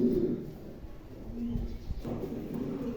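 Black African pigeons coo in low, soft, repeated calls at close range, with a steady background murmur underneath and no talking.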